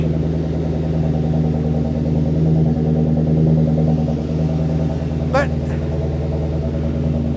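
Steady rumble of a Subaru Justy fitted with a Ford Mustang Cobra V8 engine, idling loud and close throughout, with a brief sharp squeal near the end and people talking over it.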